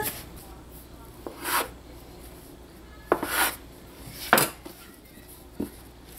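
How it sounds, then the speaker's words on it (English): Proofed bread dough for cinnamon raisin bread is cut in half on a kitchen countertop. Four or five short, soft scraping and rubbing strokes sound close by, separated by quiet gaps. "I'm going to cut this dough into a half so it will be easier to work with"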